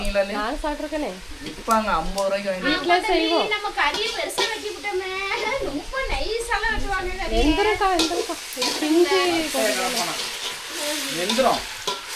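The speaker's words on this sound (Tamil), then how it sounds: "சின்ன வெங்காயம் நல்லா வதங்கிடுச்சு இது கூட கறியை சேர்த்துக்கலாம்" Country chicken fries with sautéed small onions, a steady crackling sizzle and stirring running beneath nearly continuous close conversation.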